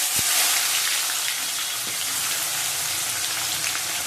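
Onions fry in hot oil in a pan with a steady, close, loud hiss and crackle that stays even throughout, with no voices.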